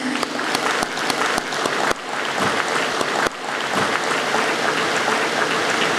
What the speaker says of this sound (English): could we have a louder round of applause for Sir, please?